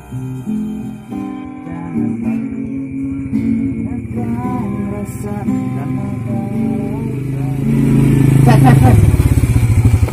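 A motorcycle engine idles and putters nearby, rising to a louder rev near the end, with people chatting over it.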